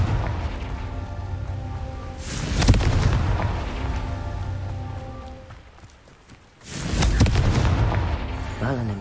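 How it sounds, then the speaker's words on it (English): Confringo blasting spells explode in Hogwarts Legacy, two heavy booms several seconds apart, each a broad crackling blast over a steady rumbling game bed with music-like tones. "Confringo"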